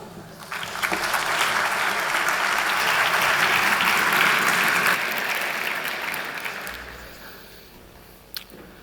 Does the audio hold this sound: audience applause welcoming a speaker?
yes